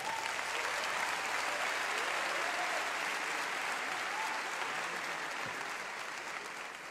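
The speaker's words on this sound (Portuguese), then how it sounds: "Let's give him a hand. Vamos bater palmas." Sustained audience applause at a large worship event, broad dense clapping from a crowd heard at some distance, holding steady and easing slightly toward the end.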